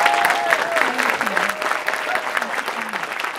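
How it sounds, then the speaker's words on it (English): An audience at a film festival Q&A claps steadily, a full round of applause with a voice speaking faintly over it. "I think a huge round of applause."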